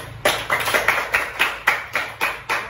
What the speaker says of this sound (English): Give a round of applause to our incredible teachers, everyone.